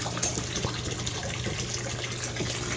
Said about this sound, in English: when the water level gets up to here and pushes out the air, it dumps by itself, which is what this one right here is doing